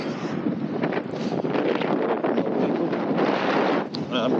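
Cold headwind buffets the microphone of someone riding an electric unicycle through a park, a loud, continuous roaring rumble with gusty swells and no talk.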